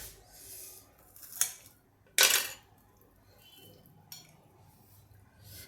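Crispy semolina cheese balls are cut with cutlery: a few short, sharp scraping clinks with quiet pauses between them, one stroke louder than the rest.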